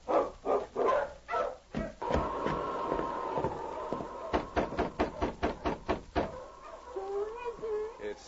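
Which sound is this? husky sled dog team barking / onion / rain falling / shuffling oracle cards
husky sled dog team barking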